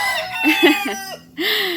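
Several roosters crow close by and loud, their calls overlapping and following one another in quick succession, mixed with some clucking from farm fowl.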